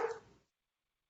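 A few sharp, close dog barks burst out together in the first half-second, then the room falls silent.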